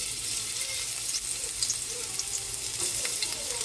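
Garlic sautéing in hot cooking oil in a pan for a Filipino ginisang ampalaya, giving a steady, close, continuous sizzle and crackle with no talking.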